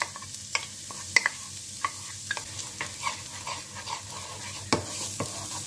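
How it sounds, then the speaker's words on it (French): Shallot frying in a pan after bacon lardons, with scattered soft sizzling and crackles plus a few sharp utensil clicks and scrapes against the pan, fairly quiet and close. "Dans la même poêle, je viens faire revenir mon échalote."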